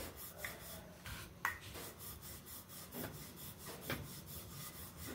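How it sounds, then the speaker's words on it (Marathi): Sajuri dough of rala millet and jaggery being rolled out with a rolling pin, a faint soft rubbing and scraping that repeats in an uneven back-and-forth rhythm, with no one talking. "अशा प्रकारे आपण शिस्तीत लाटतोय."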